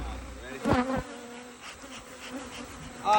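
Honey bees buzz around their hives in the Mississippi Delta during hot, humid summer weather, a steady swarm hum with louder passes of single bees close by.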